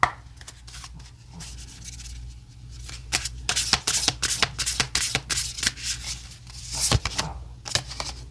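Oracle cards are shuffled by hand for a tarot reading, a close series of rapid riffling and rubbing bursts that grow denser and louder partway through, with no one speaking.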